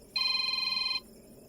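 A telephone on an outgoing call gives a single ringing burst, a steady electronic ring tone lasting under a second, fairly quiet and alone before it stops.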